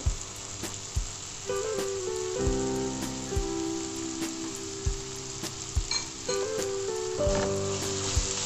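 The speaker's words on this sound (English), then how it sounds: "we also should need the butter to melt and blend with the onions" Butter melting and sizzling with chopped onions in a pan for butter chicken, a soft continuous sizzle broken by repeated sharp clinks and stirring knocks, close and without talk.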